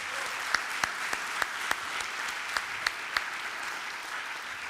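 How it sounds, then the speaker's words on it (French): Audience applause at an agricultural awards ceremony in Côte-d'Or, France: steady, dense clapping from a room full of people, with a few sharper individual claps standing out over the wash, and no talking. "je vous demande de tous les applaudir"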